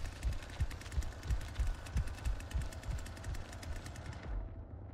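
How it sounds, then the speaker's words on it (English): In the Texas Chainsaw Massacre video game, a chainsaw rattles and revs in a rapid, loud, steady chatter for about five seconds, with nothing else heard. "I have a chainsaw."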